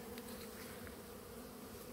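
A honeybee colony, freshly moved from a mini-plus hive onto tall narrow 30x43.5 frames, hums in a dense continuous buzz close by, steady throughout with no talking.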